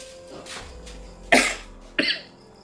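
Two sharp coughs, close and fairly loud, about half a second apart, over a quiet room with faint low hum.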